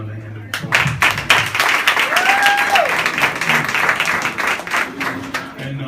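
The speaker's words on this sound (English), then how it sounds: "So let's give them another hand of applause." An open mic spoken word crowd claps in a dense, lively burst that rises quickly and holds steady, with a few voices and cheers mixed into the applause.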